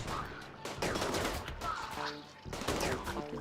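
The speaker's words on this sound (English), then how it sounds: "Heavy SMGs, they change targets so fast" Heavy SMG gunfire from turrets in the Rimworld video game, dense rapid bursts of shots repeating in quick succession, loud and close, with a synthetic tone sounding between bursts.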